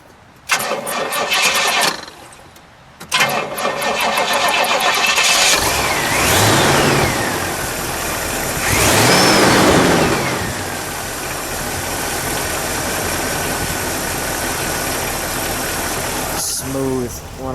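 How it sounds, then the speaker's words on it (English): A 1968 Pontiac Grand Prix engine cranks, pauses, then fires up and roars as it's revved, settling into a steady, loud idle exhaust rumble. "listen to that exhaust."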